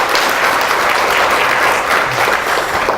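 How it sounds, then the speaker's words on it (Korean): Congregation applauding at a church worship service, dense, even clapping that fills the room at full volume and holds steady throughout with no voices over it. "박수로 한번 격려하겠습니다."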